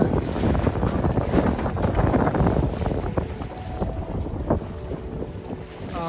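Steady wind noise rushing across the microphone as a sailboat moves at 5.6 knots on Lake Michigan in a 16 to 20 knot northwest breeze, with waves splashing against the hull throughout.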